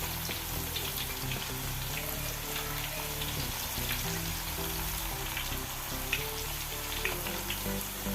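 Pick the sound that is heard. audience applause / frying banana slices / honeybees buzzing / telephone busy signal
frying banana slices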